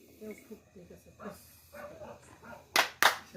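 A voice talks first, then two sharp, loud hand claps ring out close together near the end.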